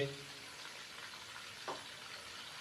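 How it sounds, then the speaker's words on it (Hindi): Chicken pieces fry in oil in a pan, giving a quiet, even sizzle throughout with one brief soft clatter partway through. "चिकन को फ्राई होते हुए तकरीबन 3 से 4 मिनट हो चुके हैं।"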